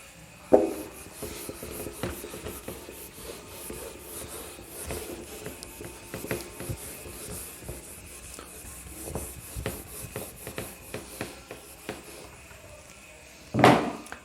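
Pencil writing on paper is erased with a rubber eraser. Quiet, scratchy back-and-forth strokes continue for several seconds, with a sharper knock near the start and another at the end.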